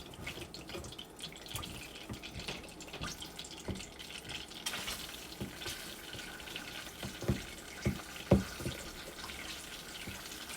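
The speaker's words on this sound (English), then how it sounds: "I'm gonna fry up the liver." Floured pieces of beef liver fry in a pan with a soft, steady sizzle that is quiet and crackly throughout, with a few louder pops and spatters near the end.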